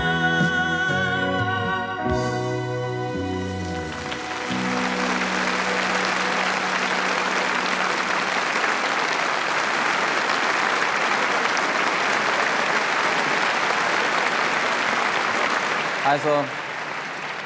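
After a Schlager song ends with music fading out, a TV studio audience breaks into loud, sustained applause that continues evenly, with a voice briefly heard near the end.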